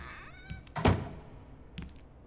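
In the horror game Junji Ito Maniac, a hidden door opens with a solid, heavy thunk. Fainter scraping and knocking trail after it over a quiet, eerie backdrop, with no voices.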